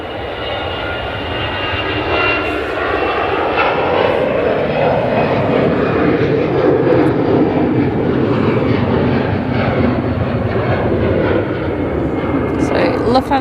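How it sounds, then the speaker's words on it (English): Jet engines of a Lufthansa Airbus A319 airliner at Manchester Airport, a loud sustained roar that holds steady throughout, close and powerful, with a voice talking faintly beneath it. "Lufthansa A319 to Frankfurt"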